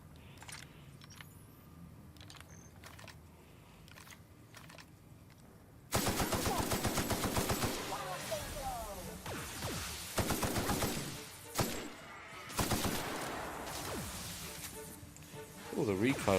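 Gunfire from a weapon in The Outer Worlds video game, beginning after a quieter stretch with a rapid automatic burst of loud, closely spaced shots, then further bursts and single cracks over game noise.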